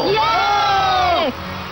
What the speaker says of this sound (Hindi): तालियां बजाइए दोस्तों।